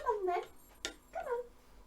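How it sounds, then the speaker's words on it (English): A house cat named Blue meows twice at the door with a short clack in between, near and fairly clear, in a quiet room. "Blue's meowing at the door"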